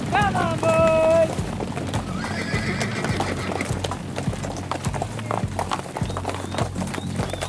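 Horses trot back in from an open pasture on a guest ranch at daybreak, with a loud whinny early on and a steady clatter of hooves, plus a jingling bell, running throughout, while a voice calls out over the herd.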